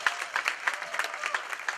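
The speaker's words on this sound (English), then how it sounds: "Everybody give the first two speakers a round of applause" An audience applauds the first two speakers at a Black History program, a steady patter of clapping with sharper individual claps standing out, fairly close and continuous throughout the short stretch.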